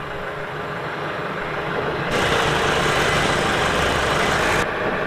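The engine of a 1994 LSVW soft-top cable layer prototype idles with a steady, rough, low rumble that grows louder and fuller through the middle stretch before settling back down.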